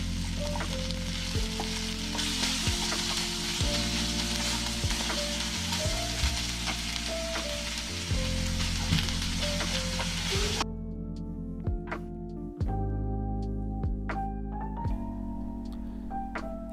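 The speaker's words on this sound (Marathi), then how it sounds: "याला छान मिक्स करतोय." Vegetable pulav frying and being stirred in a pan, a steady loud sizzle with repeated scraping and clinking of the spoon against the metal, continuous throughout with no talking.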